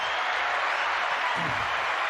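A dense, continuous wash of crowd applause, loud and steady throughout the short stretch with no individual claps standing out, played on a podcast.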